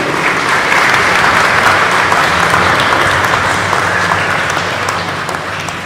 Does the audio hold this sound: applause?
yes